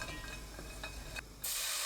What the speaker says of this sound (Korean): 냄비에 손질한 국물용 멸치 20마리 넣고 센 불로 1분 볶습니다